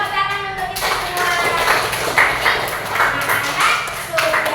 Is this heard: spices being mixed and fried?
no